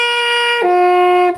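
Saxophone holds a sustained note, loud and close, that bends and settles onto a steady pitch partway through.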